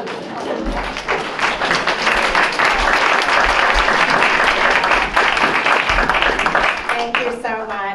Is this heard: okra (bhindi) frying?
no